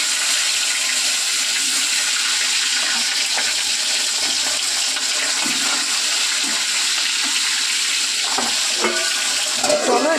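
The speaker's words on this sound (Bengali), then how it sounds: "চলো এটা ভাজা হবে।" Fish sizzles and spits in hot oil in a pan on a home kitchen stove, a steady close frying hiss running throughout with a few louder pops and crackles near the end, no talking.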